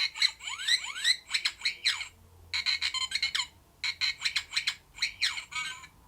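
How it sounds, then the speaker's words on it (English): Electronic chirps and warbling bleeps from a Kenner R2-D2 toy, a rapid run of close, bright twittering bursts with brief gaps, loud and clear with no talking. "It's just that little chirp at the end."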